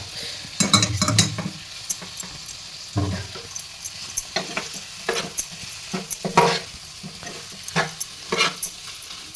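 Prawns fry with onion and tomato in a pan while a spoon stirs them. Repeated scraping and clinking strokes sit over a soft, steady sizzle, close and fairly loud, and nobody speaks.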